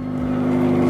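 A motorbike engine revs in a steady, close drone that holds a strong pitch and swells slightly over one second, with no voices.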